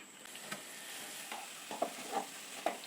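A coconut filling with ground cardamom and cumin is stirred in a pan for Kerala ela ada, producing faint, soft scraping strokes and a few light spoon taps over a quiet background.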